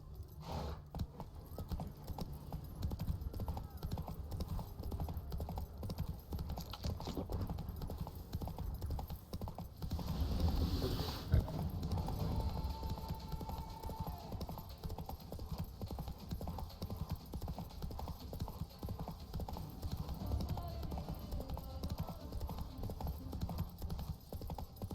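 Horse hooves gallop in The Witcher 3: Blood and Wine, a steady, rapid clip-clop that runs throughout at moderate volume with a brief swell partway through and no talking.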